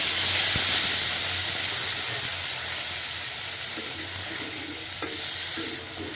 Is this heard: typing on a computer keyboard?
no